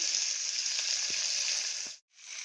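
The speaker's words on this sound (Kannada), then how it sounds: "ಇವಾಗ ಕಟ್ ತೊಳೆದು ಕಟ್ ಮಾಡಿರೋ ತೊಂಡೆಕಾಯಿ ಈರುಳ್ಳಿ ಹಾಕ್ತೀನಿ ಇದ್ರೊಳಗಡೆ ಎಲ್ಲ ಹಾಕ್ಬಿಟ್ಟು ಫ್ರೈ ಮಾಡ್ತೀನಿ ಸ್ವಲ್ಪ ಹೊತ್ತು" Chopped ivy gourd and onion frying in a pan, a steady bright sizzle with a few faint stirring knocks, briefly cutting out near the end before the sizzle resumes.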